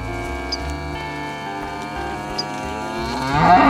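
Dairy cattle mooing nearby, one long drawn-out low moo that rises slightly toward its end, clear and loud against a quiet farm background.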